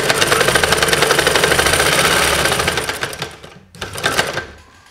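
A sewing machine runs steadily, stitching a chudidar sleeve into the armhole; loud, continuous rapid needle rhythm close by, a brief pause near the end, then a short burst of stitching resumes.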